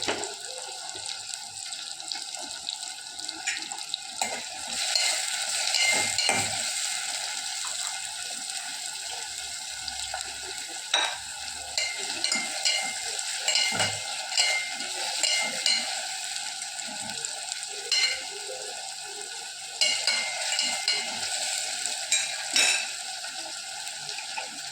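Onions and tomatoes with a little salt sautéing in a pan, a continuous soft sizzle with faint scraping stir clicks running throughout at low volume.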